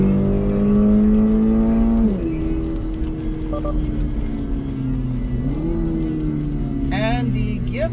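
Toyota GR86 of 2023 with its 2.4-litre engine accelerating: a steady, loud engine note climbs, dips at a shift, then pulls again, close and continuous with no talk.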